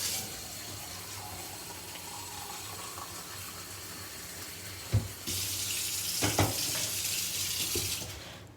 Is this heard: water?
yes